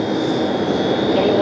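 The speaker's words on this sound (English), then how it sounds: "Alright, we've got another E-Jet" Embraer E-Jet airliner at JFK airport, a loud steady jet engine roar with a thin high whine, close and continuous, with people talking over it.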